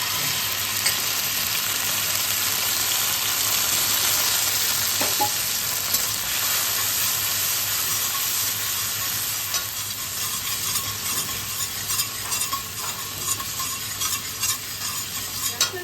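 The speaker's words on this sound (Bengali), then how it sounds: "এবার আমি আদা, ধনে আর জিরে বাটা দিয়ে দিই" A ginger, coriander and cumin paste sizzles in a hot pan while being stirred, a steady loud frying hiss with scraping stir sounds and occasional pops throughout, no voices.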